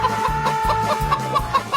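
Chickens clucking in a short burst of repeated, rhythmic clucks with a steady tonal hum underneath, fairly loud and close, no talking.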